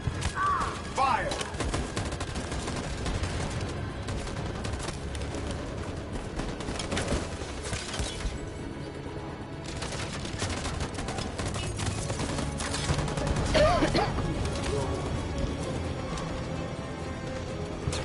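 Rapid bursts of gunfire from a firefight in Detroit: Become Human, loud and dense over about eighteen seconds, layered with crashing impacts and shouted voices.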